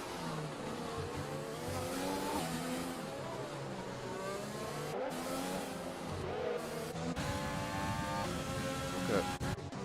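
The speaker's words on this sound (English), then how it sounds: "We have Alexis on his soft tires looking to get past Almosh here" Formula 1 cars race around the Baku street circuit in the F1 2020 video game, with a continuous high engine whine rising and falling through gear changes, several cars close together, and a commentator talking over the engines.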